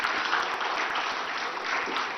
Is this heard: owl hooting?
no